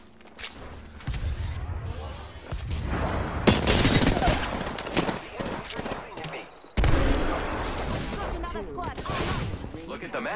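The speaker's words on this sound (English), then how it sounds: "Shooting!" Rapid bursts of gunfire ring out in the video game Apex Legends, loud repeated shots and clattering weapon mechanisms over a few seconds, with a player talking between volleys.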